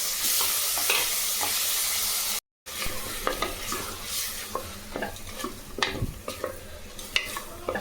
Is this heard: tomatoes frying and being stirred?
yes